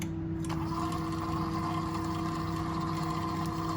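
A stand mixer fitted with a whisk attachment whirs steadily as it beats eggs with sugar for a sponge cake, a continuous motor hum with a faint tick near the start and no talking.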